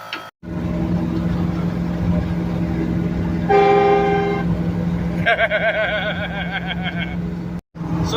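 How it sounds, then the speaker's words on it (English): Train horn installed on a truck blasting loud and close in two long, steady blows, the second starting right after the first ends, over a constant engine drone. "I got this train horn for you"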